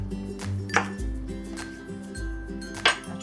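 Beef short ribs marinated with cornstarch being mixed in a bowl, with a few sharp clinks of a utensil against the bowl over a low background hum.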